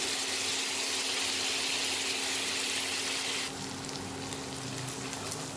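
Ginger garlic paste frying in oil for a fish curry, a loud continuous hiss and sizzle that drops to a softer level partway through, close and unbroken with no voices.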